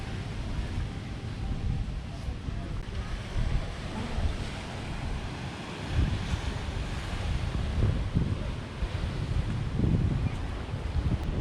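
Ocean waves wash onto a beach on Gili Air, Lombok, a continuous rolling surf under gusting wind noise that swells in places.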